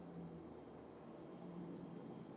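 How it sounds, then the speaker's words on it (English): A loud Corvette passes by, heard through an open window as a steady, broad engine roar that holds strong throughout without any talk over it. "Oh, it looked like a Corvette."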